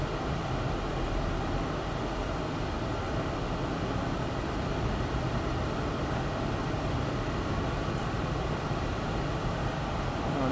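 A Lamborghini Gallardo LP550-2 rolls down the pit lane at Exotics Racing in Las Vegas, its engine a steady, muffled drone heard from inside the cabin with constant road and wind rumble.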